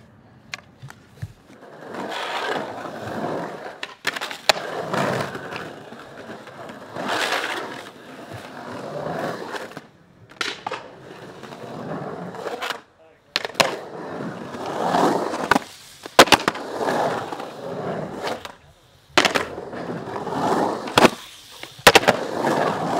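Skateboard on Bones wheels rolling through a skatepark, with a steady wheel roar over concrete broken by sharp pops, board slaps and clacks from tricks and landings, close and loud, with no one talking.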